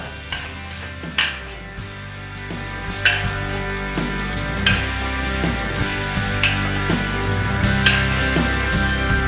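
Rice vermicelli noodles stir-frying in a hot wok for Singapore noodles: a steady, close sizzle runs throughout, punctuated by sharp scrapes and clanks of the spatula tossing the noodles, with no voices.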